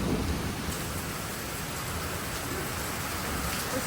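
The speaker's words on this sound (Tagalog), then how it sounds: "Naulan talaga." Steady rain falls on a wet day in the coastal towns of Perast and Kotor, Montenegro, a constant even hiss with no breaks and no voices.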